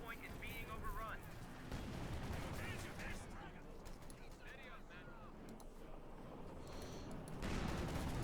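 Machine gun fire from paratroopers in the strategy game Company of Heroes 2, a dense steady rattle of gunfire mixed with other battle noise, running continuously under a commentator's voice throughout.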